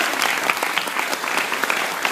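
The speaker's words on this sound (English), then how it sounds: "so give yourself a round of applause" Graduation ceremony crowd of parents and relatives clapping: a brief, dense burst of applause, bright and steady, with no voices on top.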